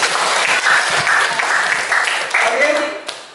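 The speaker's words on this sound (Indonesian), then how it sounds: "Minta tepuk tangan buat saya, boleh?" Steady audience applause at a school teachers' event, a dense wash of clapping that holds loud for about three seconds before tapering, with a voice talking faintly beneath it.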